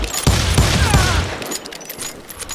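Rapid gunfire rattles in a dense burst from the Call of Juarez Gunslinger video game, loud and close for about a second before cutting off into a quieter tail.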